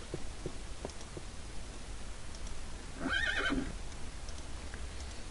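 A horse from the Mo' Creatures mod in Minecraft lets out a single wavering whinny that lasts about half a second, set against a steady background hum. Faint soft ticks are spread through the rest of the clip.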